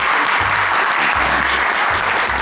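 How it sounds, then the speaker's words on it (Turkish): Applause from a studio audience on a Turkish cooking-competition show during a holiday celebration, a dense, steady clapping wash filling the whole stretch at close, loud level. "Alkış."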